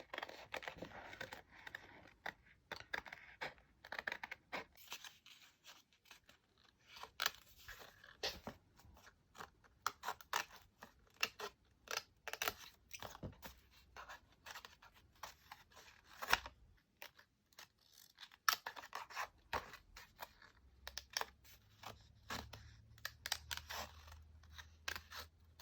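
Scissors fussy-cut a figure out of a paper page for a journal. Quiet, irregular snips and clicks come in short bursts across the stretch, with a faint low hum joining near the end.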